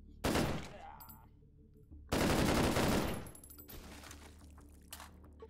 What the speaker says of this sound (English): Don't shoot 308 at a steel target like that.